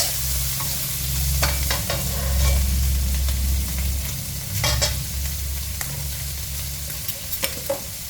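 Rice vermicelli noodles stir-fried in a pan with pork sausage, a continuous sizzle under repeated scraping and clacking stir strokes, some louder knocks toward the end, no talking.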